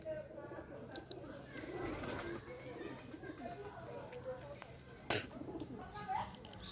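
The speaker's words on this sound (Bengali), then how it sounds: "ভিতরের কবুতরগুলা মারামারি করতেছে" Racing pigeons coo softly nearby in low, rolling calls, with a sudden scuffle or flap midway as they fight; faint background voices murmur under them.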